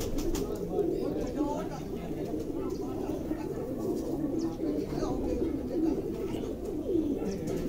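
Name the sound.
pigeon cooing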